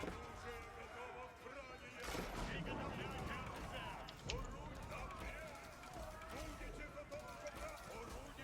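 Mangonels hurl stones into a clump of enemy units during an Age of Empires 4 battle, heard as a dense, continuous din of impacts, clashing and marching over the full stretch, with no talking.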